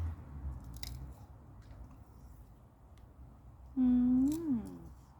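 Someone chews cooked pumpkin shoots with soft, wet, squishy bites at close range, then gives a short hummed voice sound of enjoyment.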